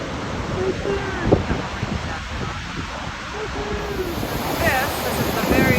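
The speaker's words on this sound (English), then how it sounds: "This is Waterfalls. Really cool, a lot of water." Rushing water from a large waterfall in Iceland, a broad continuous roar heard outdoors with wind buffeting the microphone and voices talking over it.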